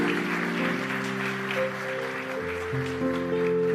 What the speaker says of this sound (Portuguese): Eu acho que merece um aplauso